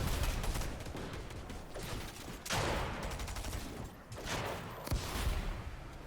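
Gunfire from a pump shotgun in a Fortnite solo cash cup match, with a few sharp blasts standing out over a continuous wash of game noise at moderate volume.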